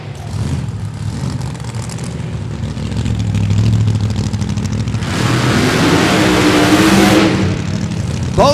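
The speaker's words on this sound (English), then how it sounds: "Both cars with those supercharged V8s fired up." Loud, throaty supercharged V8 funny car drag racing engines roar steadily at Cordova Dragway, the pitch climbing into a harsher, brighter howl partway through, with no voices.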